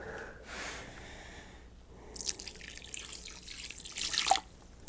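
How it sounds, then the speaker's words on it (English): Water poured into a powdery sugar cake mix for beekeeping feed, a splashy, trickling pour building in the second half and peaking near the end, fairly close with no talk. "And add some more water."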